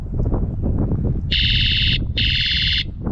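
The alarm on an Aventon Aventure electric bike sounds two loud, shrill, steady electronic tones, each about half a second long, over heavy outdoor wind noise.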